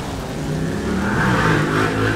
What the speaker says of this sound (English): That's an awful loud motorcycle.